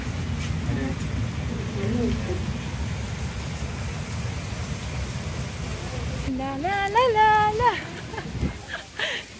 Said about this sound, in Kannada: ಈಗ ಮಳೆ ಕಡಿಮೆ ಸ್ವಲ್ಪ.